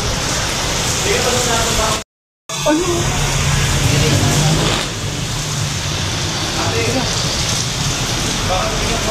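Heavy rain pours in a dense, steady hiss over an outdoor scene with a brief dropout early on, with people speaking faintly beneath it.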